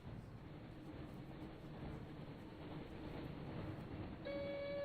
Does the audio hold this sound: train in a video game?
yes